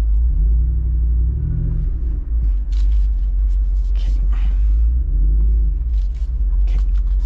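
A 2022 Jeep Wrangler Rubicon 392 Xtreme Recon climbing an off-road slope in four-wheel auto with everything unlocked, its engine giving a deep, loud, steady rumble with slight swells, recorded from inside the cabin.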